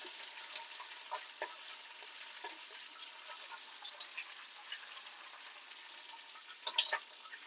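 Green chillies frying in a pan for a tangy mango pickle rice dish, a faint, quiet sizzle dotted with small pops and scattered light clicks.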